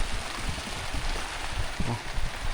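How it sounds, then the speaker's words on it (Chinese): Rain falling on an outdoor shelter by a riverbank, a dense steady patter with occasional louder drips, continuous and fairly close, with no talking. "然後又開始下雨了"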